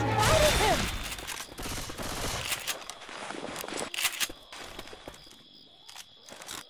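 Incendiary-round gunfire in Left 4 Dead 2 rattles in dense, rapid bursts that thin into scattered shots, with a voice briefly audible at the start.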